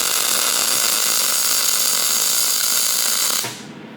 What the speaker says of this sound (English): Yep, just a regular weld.